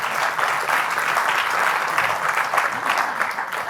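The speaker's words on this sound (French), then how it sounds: "On applaudit Roland?" An audience at a Refashion Day 2023 event claps steadily and loudly throughout, a dense, even wash of applause from a large crowd.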